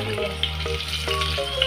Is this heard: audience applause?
no